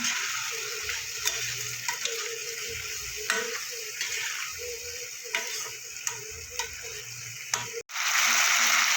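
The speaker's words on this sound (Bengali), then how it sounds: "দিয়ে একটু জল দেবো হালকা, দিয়ে একটু মশলাটা আমি কষিয়ে নেবো।" Spice paste with Kashmiri chilli and a splash of water frying in a pan for a cucumber curry, a steady soft sizzle with scattered ticks and stirring clicks throughout, ending in a brief louder burst.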